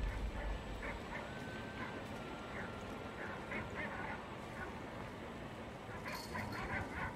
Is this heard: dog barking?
yes